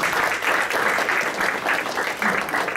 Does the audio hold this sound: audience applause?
yes